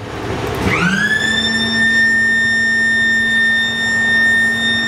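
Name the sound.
industrial plant conveyor belts starting up in sequence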